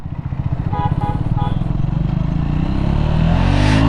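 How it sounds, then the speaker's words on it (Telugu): A Triumph Scrambler 400 X motorcycle engine pulls hard through first, second and third gear, its loud, close throbbing exhaust note rising steadily in pitch with brief dips at each shift. "సో మీకు ఇప్పుడు చూపిస్తా first gear, second gear, third gear pull ఎలా ఉంటుందో."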